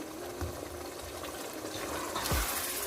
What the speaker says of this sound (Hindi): इसके बाद फिर मैं इसमें थोड़ा सा पानी ऐड करूँगी, क्योंकि मैंने थोड़ा सा इसको ग्रेवी सा बनाना है